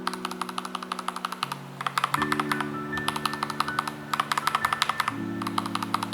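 Rapid clacky keystrokes from an AKKO 3098B mechanical keyboard with AKKO Starfish switches come in quick bursts, crisp and close, over a low steady electronic hum.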